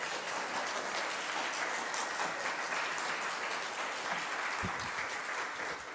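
A church congregation claps for a guest preacher at a Unitarian Universalist Sunday worship service, a dense, even roar of applause filling the room for several seconds.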